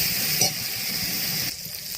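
Masala spices being stir-fried in oil for Bengali duck egg curry (hasher dim kosha), a steady close sizzle with a brief clink of the spoon early on, easing slightly toward the end.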